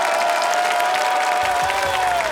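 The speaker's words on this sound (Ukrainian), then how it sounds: "Овації, крики, сльози." Loud, continuous studio audience applause and cheering on a Ukrainian game show, a full wash of clapping with a sustained tone running underneath.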